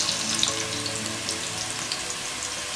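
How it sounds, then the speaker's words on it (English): Ingredients for a fresh fish stew in tomato sauce frying in a pan, a steady close sizzle with faint crackles running continuously and no one talking over it. "Fry a little bit for about 1 minute, then we'll come back to it."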